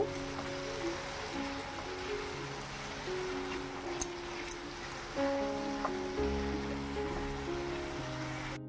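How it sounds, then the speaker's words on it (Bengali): Spice paste with ginger and garlic fries in a pan with a soft, steady hiss, continuous and close, under a faint background hum. "ভালো করে মশলাটা কষিয়ে নেব"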